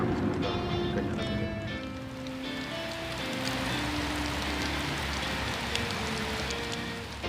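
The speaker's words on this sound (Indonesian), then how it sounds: "tadi hujan, saya baru sampai, hujannya nggak terlalu lebat dan sekarang lumayan lebat" Heavy rain pours down beside a river during a fishing trip, a dense, loud, continuous hiss of drops striking surfaces nearby, with faint tonal sounds running underneath and no speech.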